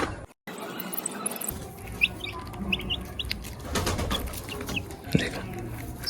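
Chickens cluck in short bursts amid rustling and a light flutter of wings, fairly close, with no talking.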